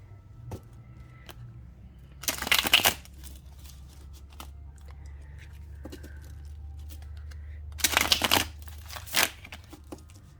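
A pick-a-card tarot or oracle deck is shuffled in two loud riffling bursts several seconds apart, close to the listener, with a faint steady hum and small taps in between.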